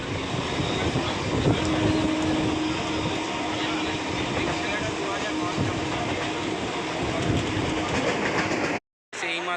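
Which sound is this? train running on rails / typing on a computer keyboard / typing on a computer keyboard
train running on rails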